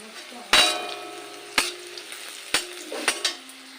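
Food frying in a pan on a home stove, with sharp sizzling bursts and clinks of a utensil stirring, several distinct crackling stirs over a few seconds.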